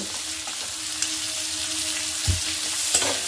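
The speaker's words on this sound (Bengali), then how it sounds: "অন্য সবজিগুলো আমি সব দিয়ে একটু ফ্রাই করে নেব" Chopped vegetables frying for quinoa khichdi, a continuous bright sizzle in a pan with a few soft clinks and knocks of a utensil stirring.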